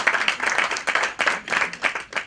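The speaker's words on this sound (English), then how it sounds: "she's worthy of applause once again as we celebrate one another" Audience at an event on Black women in America applauds, a short, uneven burst of clapping that swells and dips in quick waves.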